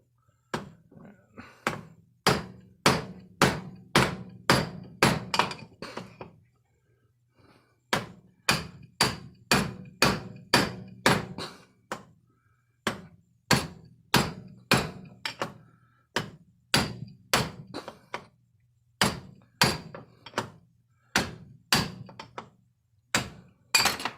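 A 3/4 inch steel bar is hammered to drive out a trailer wheel bearing. Close, sharp metallic blows come in rapid bursts of about a dozen, with short pauses between the bursts. No one speaks.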